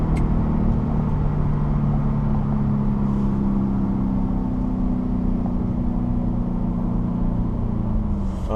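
A 2017 Ford Raptor truck engine held at steady high revs in sport mode, a continuous droning hum with a low rumble, close and loud, with no talking.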